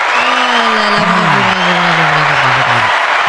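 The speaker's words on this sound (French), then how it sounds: "Encore une petite tonnerre d'applaudissements" Studio audience applause after a Paris-Marseille classico mention, loud sustained clapping with cheers and whoops, and voices calling out over the top.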